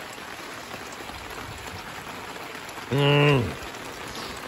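Rain patters steadily on a cooking pot outdoors at a dig-site camp, a soft continuous hiss throughout. A person briefly hums a short murmur near the end.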